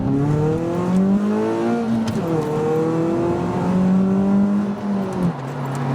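A Ford Fiesta ST150 pulls away from a junction in first gear, its engine revving up and rising steadily in pitch, dipping briefly and climbing again, heard loud from inside the car.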